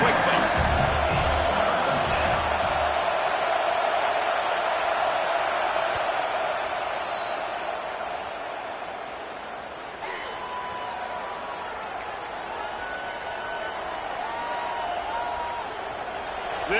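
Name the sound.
Kentucky football stadium crowd cheering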